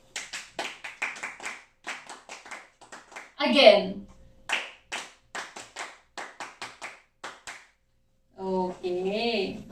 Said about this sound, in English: Let's give yourselves the scout clap again